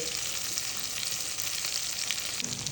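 Tomatoes, dried red chillies and curry leaves sizzle steadily in a hot pan for a garlic chutney. The frying is close and loud and hisses evenly throughout, with a faint stir near the end and no talk.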